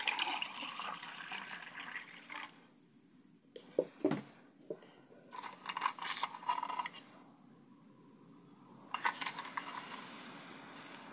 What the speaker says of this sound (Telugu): వాటర్ వేస్తాం